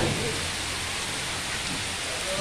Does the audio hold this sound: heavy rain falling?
yes